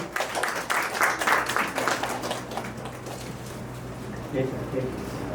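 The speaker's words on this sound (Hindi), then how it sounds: "जोरदार ताली हो जाए एक बार।" An audience at a company event gives a round of applause, a dense patter of clapping that is strongest early on, then thins and fades into the room's background.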